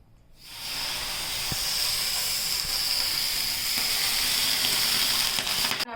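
Oil sizzling and hissing on a hot iron griddle being prepared for millet-flour dosa, a steady close and fairly loud sizzle that swells in and holds evenly.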